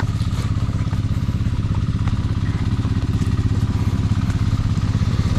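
A small Robin engine runs steadily on a farm, a loud, close mechanical chugging with a fast, even firing rhythm and faint clatter, continuing alone without talk.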